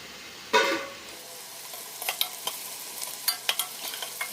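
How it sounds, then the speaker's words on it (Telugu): Onions frying in a pan for biryani make a steady soft sizzle with scattered crackles and pops, opening with a brief louder burst, close and alone. "బాగా వేగిపోయింది ఉల్లిపాయ"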